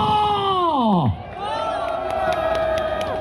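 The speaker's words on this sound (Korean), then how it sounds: "함성 발사!" Marathon runners massed at the start line of the 2023 Chuncheon Marathon, elite and A and B groups, let out a loud group shout and cheer that swells and then settles into a steady crowd roar.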